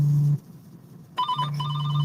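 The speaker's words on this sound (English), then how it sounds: "now his phone is ringing" A phone rings during a call: a steady electronic ring tone cuts off, then after a brief gap a trilling ring resumes, close and clear with no talking over it.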